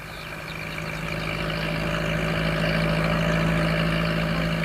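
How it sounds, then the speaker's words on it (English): A tractor engine runs steadily at close range, a low continuous idling drone with a strong hum that swells slightly louder over the few seconds, with no voices. "On the way home, Pat met Alf Thompson on his tractor"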